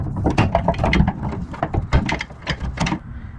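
A hose clamp on the fuel filler neck of a BMW E30 is loosened, giving close, crisp bursts of ratcheting clicks in quick irregular runs.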